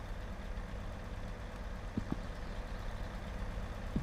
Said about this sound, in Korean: 엔진 안 끄셨네요